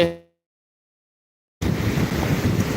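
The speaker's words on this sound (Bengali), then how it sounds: "বঙ্গোপসাগরের একদম তীরে আমি এখানকার যে স্রোত পানির ঢেউগুলো" Sea waves breaking on the Bay of Bengal shore, a rough, continuous wash of surf mixed with wind buffeting the microphone, starting abruptly after a brief cut of silence.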